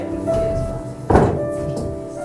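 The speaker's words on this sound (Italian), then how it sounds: "Metto via le sedie," Chairs are moved away on a stage, giving a single heavy thunk partway through, heard close over a background of low voices and room noise.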